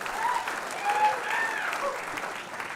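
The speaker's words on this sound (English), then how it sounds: "Give yourselves a round of applause, this is amazing" A packed comedy club audience at a live stand-up semi-final bursts into steady, full applause, a dense wash of clapping with a few cheers mixed in that holds throughout.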